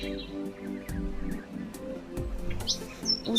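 Cartoon bird chirps in a short sequence, bright and close, with a few repeated tweets and calls over a low background tone and no talking.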